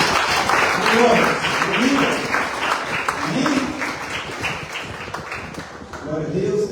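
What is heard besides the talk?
church congregation clapping for Jesus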